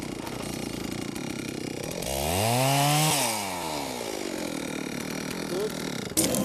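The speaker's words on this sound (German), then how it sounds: "Holger greift selbst zur Säge" A chainsaw cuts wood at a town sawmill, the engine revving up into a loud whining cut that peaks and then drops back to a steady idle, with machinery noise around it.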